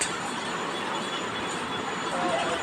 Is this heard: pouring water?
no